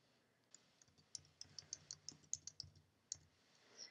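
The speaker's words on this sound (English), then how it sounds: "double click inside" Rapid computer mouse clicks, a string of small sharp taps in quick pairs and bursts, close and quiet with no voices.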